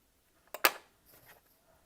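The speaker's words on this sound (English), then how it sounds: "Take my scissors and cut relatively close." Scissors snipping embroidery thread close to the fabric on a cross stitch piece, two quick crisp close-up cuts followed by a faint rustle, in an otherwise quiet room.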